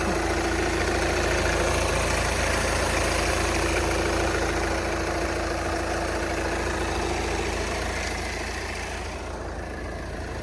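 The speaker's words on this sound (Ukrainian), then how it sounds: "Двигун працює чітко." A Volkswagen Passat B7 with a 2.0 TDI diesel engine and automatic gearbox idles steadily at close range, its even low hum running on its own without talk and easing slightly toward the end.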